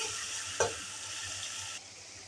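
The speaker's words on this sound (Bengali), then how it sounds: "চিংড়ি মাছটা ভালো করে ভেজে নেব" Prawns fry in oil with a quiet, continuous sizzle, a single brief clink or stir near the start, and the hiss eases slightly toward the end.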